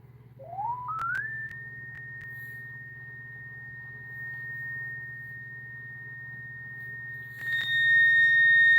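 A tone generator sounds a steady pure tone near 1,845 Hz, after a brief upward-sliding start, holding level over a constant low hum, with a second higher tone joining near the end.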